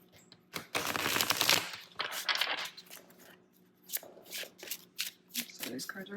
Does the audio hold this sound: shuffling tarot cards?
yes